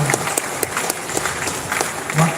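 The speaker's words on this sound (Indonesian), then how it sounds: "Tepuk tangan untuk Kiai." An audience at a Kiai's sermon gathering in Banyuwangi breaks into a short burst of scattered clapping, with sharp claps over a busy crowd murmur.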